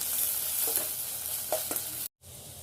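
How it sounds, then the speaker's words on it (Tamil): Onions with ginger garlic paste sizzle steadily in a pan for a roadside-style mushroom dish, with a spoon scraping and stirring through the fry a few times before a brief cut. "இதில் ஒரு ஸ்பூன் இஞ்சி பூண்டு பேஸ்ட்டு போட்டுக்கோங்க எல்லாத்தையும் நல்லா மிக்ஸ் பண்ணிவிட்டு"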